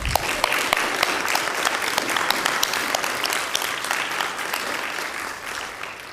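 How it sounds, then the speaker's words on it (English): Steady audience applause fills a school honor society induction ceremony, a dense wash of many hands clapping at even loudness throughout with no voices standing out. "Please join me in thanking them with a round of applause."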